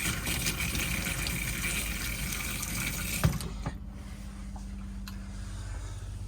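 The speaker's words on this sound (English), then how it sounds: "Got a pressurized flow of water, so that's the pump being turned on, and that's hot water now" Pressurized hot water runs from a tap in a Swift Escape 674 caravan while the water pump works, a steady close gush that ends with a sharp click and then a low pump hum.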